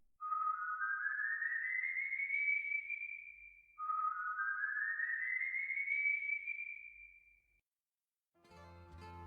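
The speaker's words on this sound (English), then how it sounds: "you just might hear the haunting whistle of a tormented soul seeking redemption" An eerie whistle for the El Silbón legend of Venezuela, two long rising glides each lasting several seconds, clear and isolated against silence, followed by a brief burst of low rumbling noise.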